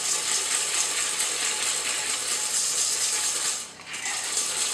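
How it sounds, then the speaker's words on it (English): Butter and sugar being whisked together in a bowl for brownies, heard as a steady, close, continuous scraping and rattling with a brief dip near the end, no voices. "using a whisk, just going to keep mixing that sugar and butter together."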